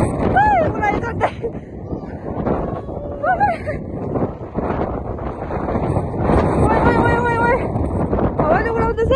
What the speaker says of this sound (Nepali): हावाले उडाउँदैछ है